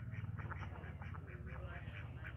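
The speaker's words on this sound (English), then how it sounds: "This duck is called Koroknath." Black Kadaknath duck quacking in a rhythmic series of short nasal calls outdoors near a hotel in Darjeeling, over a steady low hum.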